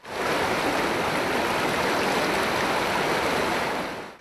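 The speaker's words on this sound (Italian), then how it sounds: "la corrente del fiume è forte, a tratti violenta" Strong, at times violent current of the Piave river near Montello rushes in a steady, close, full-bodied roar of turbulent water, alone without speech.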